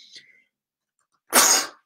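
A single sharp sneeze from an adult man, close and loud, coming after a brief faint sound and a moment of silence.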